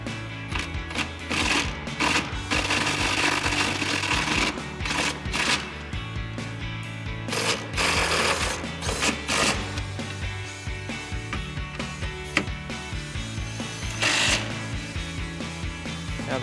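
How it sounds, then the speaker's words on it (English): An impact wrench with a 13mm socket drives bolts into a running-board bracket on a RAM 2500, heard as several loud bursts of rattling hammering separated by short pauses, close up. "we'll tighten them down with our 13mm socket on our impact"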